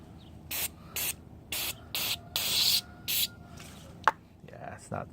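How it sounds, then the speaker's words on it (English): An aerosol can fitted with the wrong nozzle tip hisses in a string of short bursts, about seven sharp sprays with brief gaps between them, close and fairly loud. "It's wasting more than it's actually spraying onto the area"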